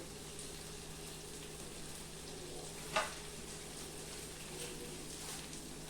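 Whole cumin seeds sizzling in hot oil for a raw banana kofta curry, a faint, steady crackling hiss with one brief clink partway through.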